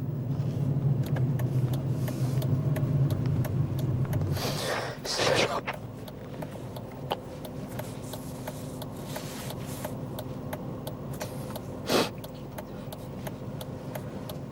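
Car driving along a road on a coastal route toward a beach, with a steady engine and road drone throughout and a brief louder swish midway.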